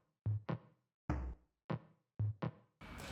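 Punchy lo-fi house drum hits with reverb added, a sparse pattern of knock-like thuds and snappy hits each ringing out briefly, ending in a washy noise swell.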